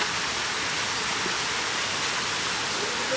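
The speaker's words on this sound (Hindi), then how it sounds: "यहाँ से पानी आ रहा है थोड़ा, मगर फ्लो ज़्यादा नहीं है, मगर पानी साउंड ज़्यादा कर रहा है।" A mountain stream flows steadily through a forest after rain, a dense, continuous rushing hiss of water, close and loud with no pauses and no voices.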